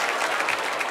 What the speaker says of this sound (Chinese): 掌声欢迎这位很常迟到的大眼睛朋友。